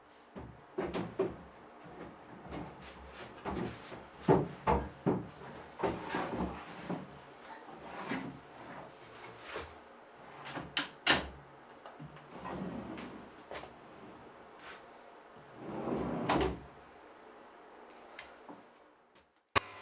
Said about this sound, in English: time for a test fit, see how the drawer slides in